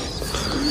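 Pigeons cooing softly in a short, continuous burst of low murmuring calls against a rough background hiss.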